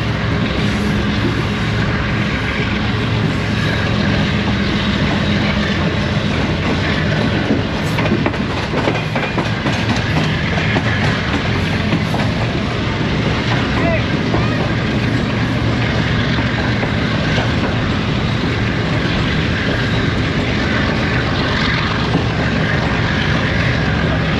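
Shalimar Express passenger train running from Lahore toward Khanewal, a loud continuous interior rumble of wheels on rails with steady rattling and faint clickety-clack, no talking.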